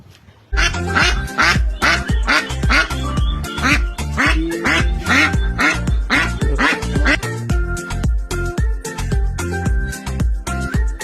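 Loud, rapid ducks quacking at close range in a village, a near-continuous stream of overlapping calls from several birds.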